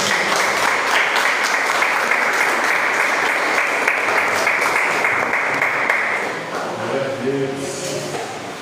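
A church congregation claps in sustained, dense applause that fades out toward the end, followed by a voice speaking.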